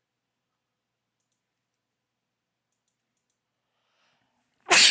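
After near-total silence, one sudden, loud sneeze bursts out close by at the very end.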